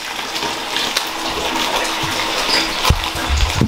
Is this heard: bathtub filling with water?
yes